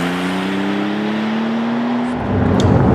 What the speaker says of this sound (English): the engine is pokey as well, and it pulls well, and it sounds good as well